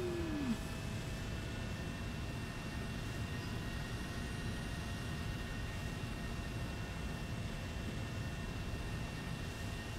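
A post-war jet aircraft in a video game rolling for a ground takeoff, a steady engine drone and whine with faint high tones, holding level and fairly quiet throughout.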